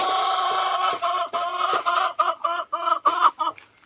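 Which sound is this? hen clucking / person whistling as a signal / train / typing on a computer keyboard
hen clucking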